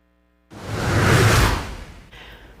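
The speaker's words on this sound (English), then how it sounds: "have you ever wondered what lava flow sounds like in a volcanic eruption?" Lava flowing during a volcanic eruption: after a short silence, a broad rushing roar swells and then fades over about two seconds, loud and alone.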